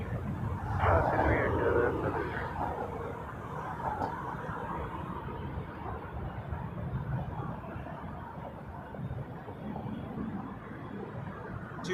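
An Embraer jet airliner at Toronto Pearson airport produces a distant, steady engine roar, faint and continuous under someone talking.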